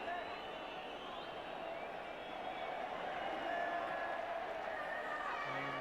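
A football stadium crowd at an Everton v Ipswich Town match keeps up a steady, distant murmur of many voices, with no single shout or cheer standing out.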